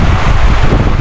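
Strong wind roars steadily and loudly across a microphone on an open farm, a dense buffeting rush with no rain, close and continuous for the whole moment.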